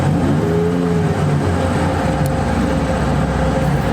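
A 2020 Ford Raptor's EcoBoost V6 engine revs up against its rev limiter, a loud, steady drone filling the clip with a brief rising pitch early on and no talking.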